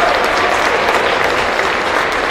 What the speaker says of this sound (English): Clapping it up here for the Cougs leaving the floor.